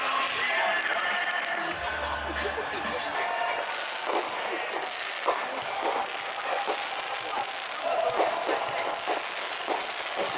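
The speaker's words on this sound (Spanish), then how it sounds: "Y ya empezaron los cohetes." Fireworks crackle and thump through a celebration in Canada, with a steady barrage of bursts and pops heard from a moderate distance beneath a busy crowd wash and occasional voices.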